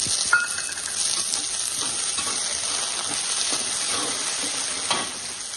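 Soaked peas and a few peanuts being sautéed in hot oil in a pan for a vermicelli upma, giving a steady close sizzle and hiss throughout with light stirring scrapes.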